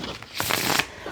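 Tarot cards shuffled by hand for a Virgo reading, a short soft riffle of papery flicks close by, with no talk.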